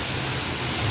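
Torrential rain hisses and patters without letup in a short, loud, close wash of sound, with no one speaking.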